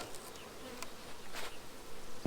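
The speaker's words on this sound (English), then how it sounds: "Just to give you an idea how many bees are in here." Honey bees buzz steadily inside a small nuc hive during queen release, a close, continuous drone with a few louder passes near the end.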